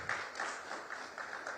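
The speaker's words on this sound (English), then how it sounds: "let's give them a very warm round of applause for that" An audience at a state conclave in Odisha claps faintly and steadily, the soft patter heard from a distance.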